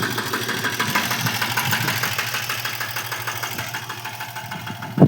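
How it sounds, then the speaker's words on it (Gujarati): An auto-rickshaw engine runs after pulling away with a load of passengers, a steady rattling drone with a rhythmic knock that stays fairly loud and close throughout, ending in a brief bump. "આપણી રિક્ષા ઉપાડી લીધી છે."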